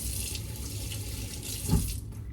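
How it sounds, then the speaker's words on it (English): A kitchen tap runs briefly while water is added for a baking dough, a steady close stream with a short knock near the end, no voices. "So I am just gonna put some water in."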